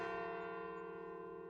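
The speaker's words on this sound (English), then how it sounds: "Hear the tolling of the bells," Iron church bells tolling in a single sustained ring, the deep resonant hum decaying slowly, loud and close with nothing else heard.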